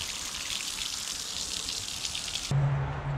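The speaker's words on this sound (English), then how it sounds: "Rinse all this off here." Water spraying and rinsing off a jet ski hull during wet sanding, a steady close hiss of running water that shifts abruptly to a different, lower spray near the end.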